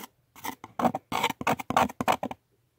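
Gritty remains of a bladder stone dissolved in vinegar are scraped in a series of short, rough rasping strokes, about nine close bursts with brief pauses between.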